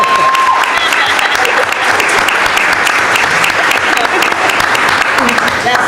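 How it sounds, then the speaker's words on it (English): Loud, dense audience applause at a food insecurity panel at Delgado, honoring a speaker who has accepted work as a registered nurse; the clapping stays steady and full throughout, close and without pause. "One more round of applause"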